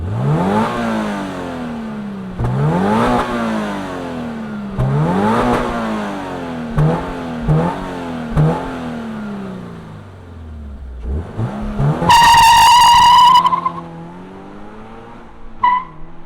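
A 2024 Toyota GR86 sports car engine cranks to life, then revs hard in repeated rising bursts, settles briefly, and screams up to a high-pitched peak before dropping off.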